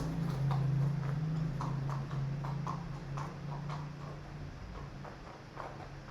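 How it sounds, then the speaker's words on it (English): Horse hooves clomping along a cobblestone street in Mexico, a steady rhythmic clip-clop passing at a moderate distance with a low engine hum underneath. "do you hear the horse clomping?"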